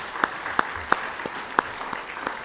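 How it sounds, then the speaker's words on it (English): Applause for heads of state at the AU-UN Wildlife Economy Summit, with a soft wash of clapping from the audience and several louder, evenly spaced claps from one nearby pair of hands standing out. "I think Their Excellencies deserve a round of applause for taking our questions"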